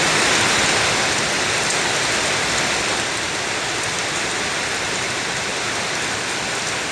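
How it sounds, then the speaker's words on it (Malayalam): Steady, dense summer rain in the morning, hissing continuously on surfaces nearby, a constant wash of noise with no pauses or voices. "രാവിലെ എണീറ്റപ്പോൾ തന്നെ മഴയാണ്."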